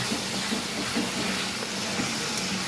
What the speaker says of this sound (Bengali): আদা তার সাথে একটু রসুন হালকা পরিমাণে রসুন কষাতে হবে ভালো করে পায়েল কষাচ্ছে